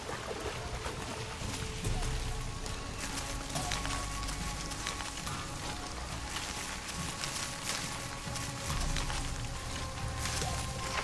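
Heavy rain in the video game Shadow of the Tomb Raider, a dense, constant hiss and patter with low rumbling underneath, steady throughout with no voices.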